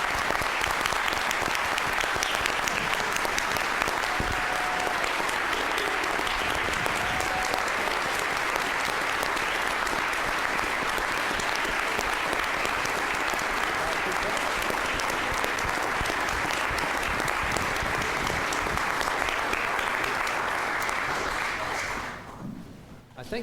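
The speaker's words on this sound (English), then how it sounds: "Let's give them a round of applause." Sustained applause from a crowd honoring newly sworn Florida lawyers at the Supreme Court, steady dense clapping continuing for over twenty seconds before fading out at the end.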